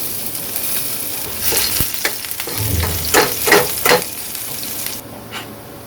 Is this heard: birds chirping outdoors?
no